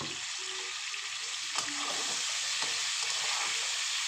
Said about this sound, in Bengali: এবার এটাকেও ভালো করে নাড়িয়ে চাড়িয়ে মিক্স করে নেবে